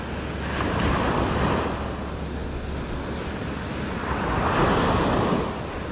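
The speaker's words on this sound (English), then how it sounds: "You see how those waves are breaking there?" Ocean surf breaking on an Alabama beach in February, two broad swelling washes of waves rising and falling over a constant low roar, with wind buffeting the microphone and no voices.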